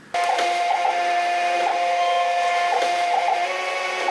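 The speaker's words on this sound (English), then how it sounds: "I want to make sure my printer is on, and we're just gonna print it." A desktop printer runs a shipping label, a close, steady mechanical whir with rhythmic clicks and feed ticks starting abruptly and continuing to the end.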